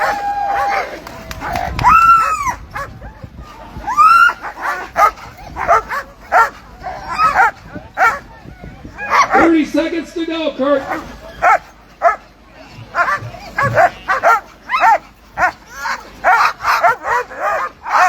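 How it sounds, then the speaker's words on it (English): Sled dogs at the start of the John Beargrease Sled Dog Marathon's 120 mid-distance race bark, yip and whine excitedly in repeated bursts, while a voice calls out over the eager pack. "this is the starting of the John Bear Grease Sled Dog Marathon"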